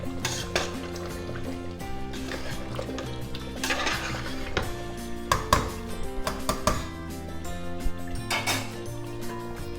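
Mutton kurma being stirred in a cooking pot after coriander is added, with steady scraping and clinking of a spoon against metal, close and moderately loud, with no talking.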